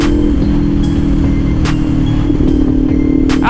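A Kawasaki Ninja 500 SE motorcycle cruising on an expressway, a loud, steady engine drone with constant wind rush and a few brief higher whooshes of passing traffic.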